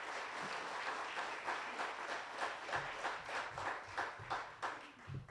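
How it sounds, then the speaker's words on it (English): An audience at the official launch of a regional youth games event in Windhoek applauds, a steady crowd clapping that grows into more distinct, rhythmic claps toward the end. "Let's give Cricket Namibia a round of applause."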